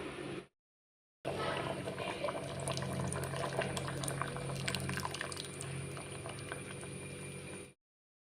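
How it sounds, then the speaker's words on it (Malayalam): Half a cup of coconut milk pours into a pot of steadily simmering, bubbling payasam, a continuous close-up cooking sound with no talking. "ഇനി നമ്മൾ ചേർക്കാൻ പോകുന്നത് അരക്കപ്പ് തേങ്ങാപ്പാലാണ്"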